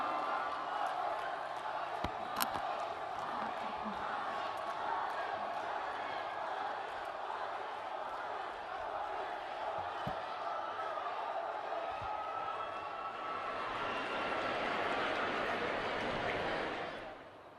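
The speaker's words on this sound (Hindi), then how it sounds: "और एक बार जोरदार तालियां माननीय प्रधानमंत्री जी के स्वागत में।" Sustained, dense applause and crowd noise from a large audience welcoming India's Prime Minister Modi at a public event in Ramagundam, Telangana, steady throughout and swelling louder near the end before cutting off.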